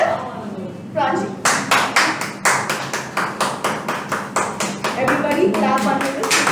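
A small group in a youth leadership meeting claps together in a steady, rhythmic beat of distinct, evenly spaced claps after a moment of talk, the pace holding for several seconds.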